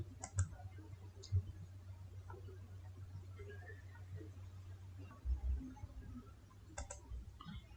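A computer mouse clicks a few times, quiet and sparse, at irregular intervals over a low steady hum.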